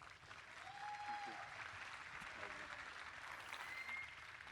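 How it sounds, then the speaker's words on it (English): An audience at an NFT conference gives a keynote speaker a round of applause, a sustained wash of clapping at moderate level, with a brief voice and a whistle-like tone cutting in over it. "Give him a round of applause."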